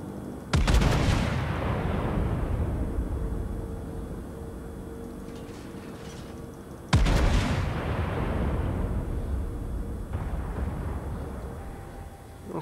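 Warship guns fire in World of Warships: two heavy booming salvos about six seconds apart, each with a sharp crack and a long rumbling decay, over a low background drone.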